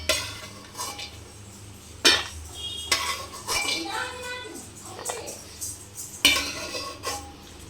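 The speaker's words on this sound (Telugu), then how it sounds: "సో ఇవన్నీ తీసుకొని ప్లేట్లో వేసుకోవాలన్నమాట మనం." Fried dry fruits for chicken mandi are scooped from a pan onto a plate, close metal clinks and scrapes of a utensil against the cookware with a few sharp knocks and a faint sizzle.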